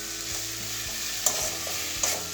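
Chopped onion and tomato hit a hot frying pan, raising a steady sizzle broken by two sharp stirring scrapes, close and clear with no voices.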